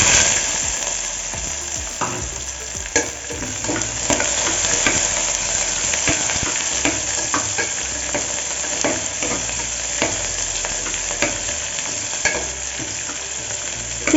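Small shallots sizzling in hot oil with star anise, cinnamon and cloves for a chicken curry, stirred with a spoon that scrapes and clatters against the pan under a continuous loud fry.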